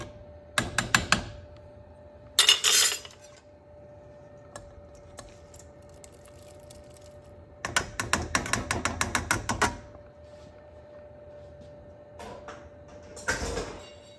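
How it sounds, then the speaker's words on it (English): Stewed tomatoes being chopped with a knife on a cutting board while making beef vegetable soup: clustered bursts of quick, close tapping separated by quiet pauses, with no talking. "I chopped up my stewed tomatoes"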